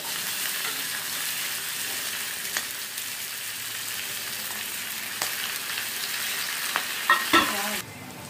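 Onions frying in a pan with garlic, whole coriander, cumin and asafoetida, giving a steady close sizzle with occasional stirring clicks and scrapes, moderately quiet, no talk.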